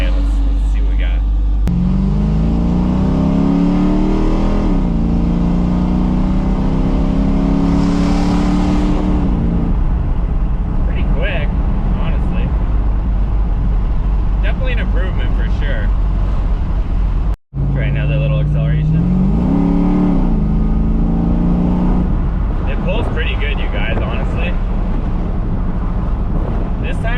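A Dodge Magnum V8 fitted with a bored-out throttle body revs up in two loud, rising pulls with steady idle rumble between, recorded close over wind noise.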